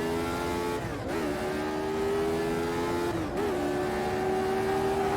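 A Lotus 79 race car engine in the game Automobilista 2 snarls loudly at close range, twice dipping briefly on gear shifts before climbing again in pitch under hard acceleration.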